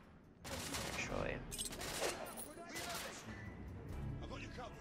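A gun in The Order: 1886 firing all three rounds in one blast, heard as a loud burst of gunfire followed by further shots and rumbling game sounds, with a voice talking faintly in the background.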